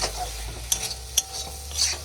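Prawns being stir-fried in a pan, with a soft continuous sizzle broken by a few sharp scraping clinks of a utensil against the pan, no talking.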